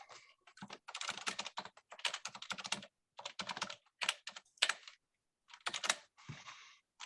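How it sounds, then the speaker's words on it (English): Rapid bursts of keystrokes on a quieter computer keyboard, clicking in uneven clusters with short pauses between runs, close and fairly soft, no voices. "I had to switch to the quieter keyboard, so you guys didn't have to hear me clicking and clacking"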